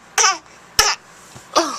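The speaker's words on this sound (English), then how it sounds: "Let me hear you cough." A young child's fake coughs, three short forced bursts spaced evenly about half a second apart, loud and close, each with a breathy, voiced edge.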